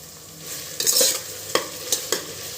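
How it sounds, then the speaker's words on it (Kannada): Potatoes and green chillies fry in a pan for potato biryani, with a steady sizzle under several sharp scraping stirs of a spatula against the pan. "ಒಂದು ಸ್ವಲ್ಪ ಗೋಲ್ಡನ್ ಕಲರ್ ಬರೋವರೆಗೂ ಫ್ರೈ ಮಾಡ್ಕೊಬೇಕು"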